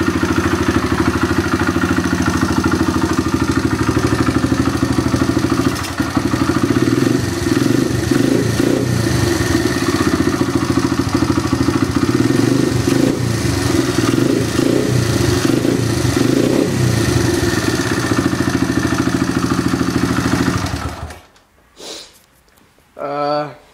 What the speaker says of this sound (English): 1977 Honda Z50. I rebuilt it. Here's it running.